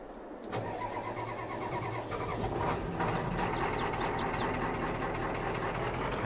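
A rough, rumbling pickup truck engine in Farming Simulator 22 starts up and keeps idling steadily, loud and close, with no voices over it.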